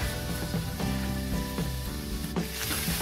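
Tomato and spices are roasted in a pan on high heat for a puffed-rice snack, with a loud, close, continuous sizzle and regular scraping stirs about every second.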